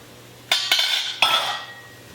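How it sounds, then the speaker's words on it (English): A spoon clanks against a pot of potato and leek soup as it is stirred, with three sharp metallic knocks in quick succession, each followed by a brief ringing tail, close and fairly loud. "Give them a little stir."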